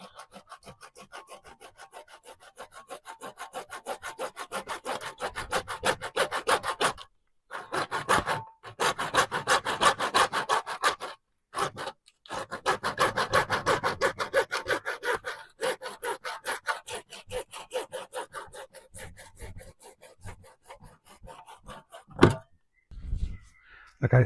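A hand saw cuts through pond air hose in long runs of quick, rasping back-and-forth strokes, close and rhythmic, stopping for short pauses before resuming, with a few clunks at the end.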